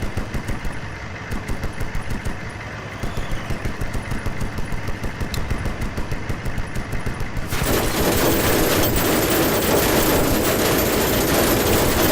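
A jeep-mounted machine gun fires in the Battlebits video game: loud, continuous rapid bursts with an engine rumble underneath. Partway through, the sound becomes a denser, harsher wash of gunfire and noise.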